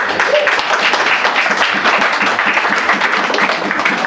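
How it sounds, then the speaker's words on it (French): A church congregation applauds together in steady, dense clapping that fills the room from start to finish, with no single voice standing out. "Acclamons un peu le Seigneur, bien sûr."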